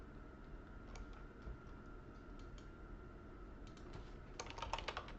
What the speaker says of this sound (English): You just simply type the names in if you feel you need to.